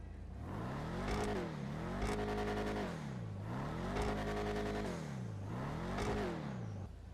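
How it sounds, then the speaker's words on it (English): Engine of a Declasse Vigero ZX muscle car in GTA Online revved repeatedly, rising and falling in pitch in about four loud surges, with a whirring drone throughout and no talk. "the engine sound of this vehicle is probably going to be very familiar to many"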